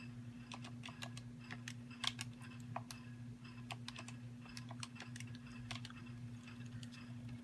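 Quick, light taps on calculator keys come in an irregular patter under a steady low electrical hum, faint and close, with no one speaking.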